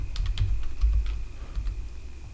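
Typing on a computer keyboard to search apps in a design tool, a short run of light, irregular keystrokes over a low background hum.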